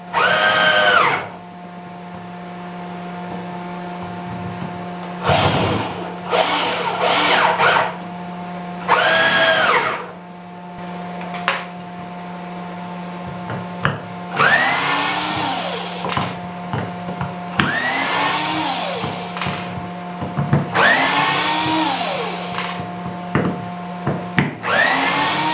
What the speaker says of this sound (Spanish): ¿Veis cómo el taladro con el transformador de microondas tiene mayor potencia?